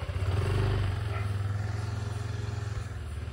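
A motorcycle engine idles and rumbles loudly up close at night, a steady low drone with slight revving as it begins to pull away.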